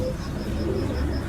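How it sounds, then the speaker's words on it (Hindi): Dub breed pigeons cooing in a loft, a steady low burbling coo that carries through the clip with faint chirps above it and no talk. "ये डब वाले कबूतर हैं जी।"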